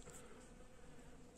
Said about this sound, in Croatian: I ne znam da li možete čujete brujanje pčela i bumbara.